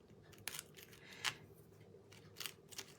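Scissors snip a small piece of dry decoupage paper for a light switch cover, with a few short, crisp, close cuts spaced apart in a quiet room.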